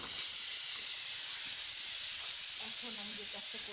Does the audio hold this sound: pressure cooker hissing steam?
yes